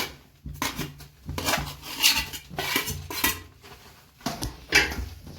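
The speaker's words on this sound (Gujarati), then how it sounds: "હવે આપણે તેમાં જે માવો આપણે લીધો છે તેને આ રીતે મિક્સ કરી દઈશું." Mawa stirred into roasted flour in a metal pan while making adadiya pak, giving repeated scraping and clinking strokes of the spoon against the pan, close and fairly loud, with no talking.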